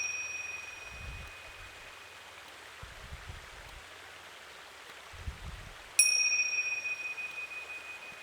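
A gong struck during a yoga class rings out in one sudden bright strike partway through, its shimmering tone sustaining and slowly fading over a quiet room hiss with a few soft low thumps earlier.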